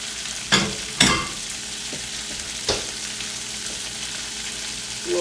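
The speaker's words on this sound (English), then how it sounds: "Next, I'm going to go ahead and grill the chicken that I marinated earlier." Marinated chicken for a spicy Cajun chicken pasta frying and sizzling in a pan, a steady close sizzle with a few sharp clatters from stirring, no talk.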